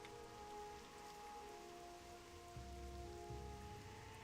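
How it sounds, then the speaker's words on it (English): Rain in World of Warcraft Classic falling on a rainy day in Aberdeen, a soft continuous patter and hiss with a quiet low game tone under it and no talk. "Looks like it is a rainy day, guys, in Aberdeen."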